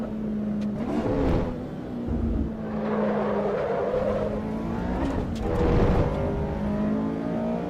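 Stock Honda S2000 racing in Assetto Corsa EVO, its engine holding a steady drone with rising revs and gear changes, loud and continuous as it rides close behind a rival.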